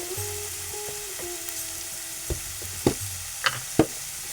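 Onion, tomato and potato sautéing in a pan, a soft low sizzle with scattered sharp clinks and scrapes of a spatula toward the end, a faint tone humming underneath, no voices.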